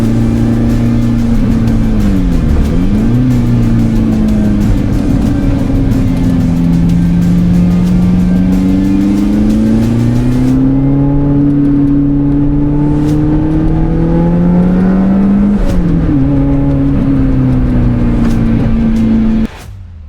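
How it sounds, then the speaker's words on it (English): A supercharged Lotus Elise 220 Sport engine revs up and down continuously with its exhaust note, the rising and falling tone carrying a supercharger whine, loud and close, then cutting off abruptly at the end. "As we increase the revs, the whistling of the supercharger becomes more and more noticeable"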